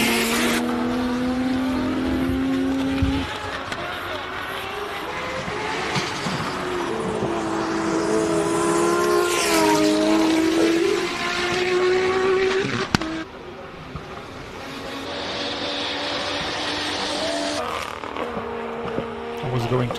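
A race car charges up the Simola Hillclimb course, its engine note rising and shifting through gears as it passes. The engine roars loud and continuous over crowd and ambient noise, with a sharp transient partway through.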